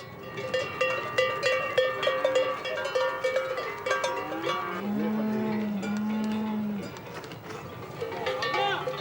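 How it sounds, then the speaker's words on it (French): A herd of about 600 cows from the Spanish valleys crosses to the French mountain pastures near the Bernatoire lake in the Pyrenees. Cowbells clank continuously, and deep moos rise among them, with a voice speaking over the herd. "Venues des vallées espagnoles, 600 vaches rejoignent les pâturages français et le lac de la Bernatoire."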